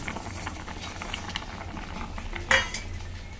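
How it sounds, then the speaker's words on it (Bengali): A vegetable curry of taro roots bubbles in a pot, a steady soft simmering hiss running throughout with a brief clink of a utensil near the end. "তরকারিতে জাল এসে গেছে।"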